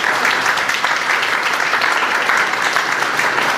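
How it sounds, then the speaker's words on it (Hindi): Audience clapping for children at an Arya Samaj girls' life-building camp in Vashi, a dense, steady burst of applause from a crowd filling the whole moment. "इन बच्चों का ये तालियां एक बार जोरदार होनी चाहिए"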